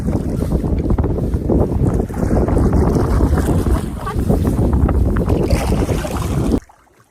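Strong, steady wind roars and buffets the microphone on a lake during a solo fall paddle, a dense rushing noise that holds for several seconds before cutting off abruptly near the end.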